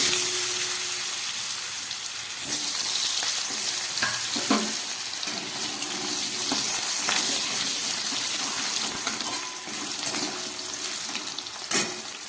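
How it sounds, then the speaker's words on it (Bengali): Potatoes frying in oil with panch phoron, mostly black cumin, a continuous close sizzle with occasional stirring scrapes and clatters. "আলুগুলোকে আমি খুব ভালো করে একটু ভেজে নিচ্ছি।"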